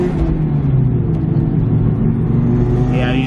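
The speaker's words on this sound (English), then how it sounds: "Oh, rev it up. There it goes." A BMW E36 318ti with a four-cylinder engine revs up in a strong, steady rumble that climbs in pitch, heard from inside the car while people talk over it.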